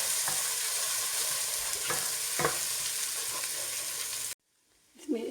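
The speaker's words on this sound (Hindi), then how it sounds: "हम इसमें अंडे तोड़ के डालेंगे, जो कि 4 अदद हैं, और तेज़ चलाते जाएंगे" Eggs are stirred quickly into tomatoes frying in a pan, a busy close sizzle with scraping stir strokes that stops abruptly near the end, followed by a brief faint clatter.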